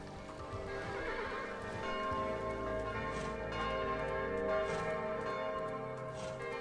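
A horse in the video game Kingdom gives a clear whinny over steady hoofbeat clip-clops. A tonal musical bed with bell-like tones sits close and even beneath it.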